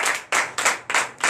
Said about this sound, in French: Donnez encore de vives acclamations.